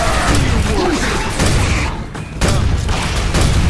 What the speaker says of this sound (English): The grenade launcher is exactly the same as the older one, but they mess with the sound